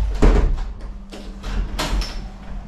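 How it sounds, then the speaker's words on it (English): A balcony door in an old convent guesthouse in Buenos Aires is pushed shut nearby, making a quick run of knocks, a scraping slide and a final latching clunk over about two seconds. "Shut the door."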